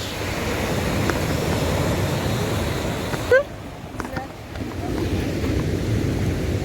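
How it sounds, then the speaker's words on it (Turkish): Steady ocean surf washes and rushes close by on a rough-sea day with wind noise over the microphone, briefly dipping before the roar of waves returns. "Bu arada acayip bir dalga var."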